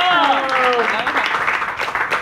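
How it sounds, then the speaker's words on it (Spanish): A children's show audience at a Toy Story 3 themed Disney kids' performance breaks into brief applause and cheering, with a voice sounding over the start before the clapping continues on its own. "les damos un fuerte aplauso a esta hermosa familia para que pasen a sus lugares"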